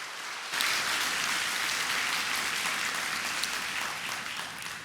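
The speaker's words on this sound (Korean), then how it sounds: "우리 큰 박수로 한번 환영하면 좋겠습니다" Audience at a church gathering applauding to welcome a missionary speaker: dense, sustained clapping that starts abruptly and continues steadily at moderate volume throughout, fading slightly at the end.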